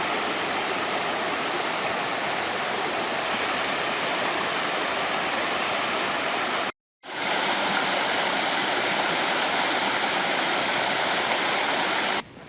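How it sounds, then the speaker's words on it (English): A little river on a White Mountain forest hiking trail rushes steadily over rocks, a loud, close, continuous wash of water with one brief cut, no voices. "little river here"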